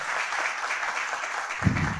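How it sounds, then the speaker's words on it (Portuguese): An audience at a theatre festival applauds, a steady wash of clapping throughout with a low thump near the end. "Uma salva de palmas mais forte para eles"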